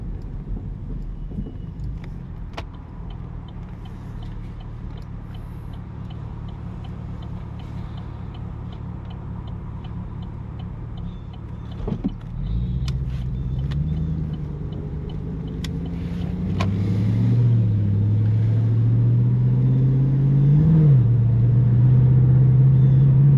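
A 2010 Chevy Camaro SS engine idles with a low, uneven rumble, then revs and drones louder as the car pulls away, sounding slightly rough and fuel-starved.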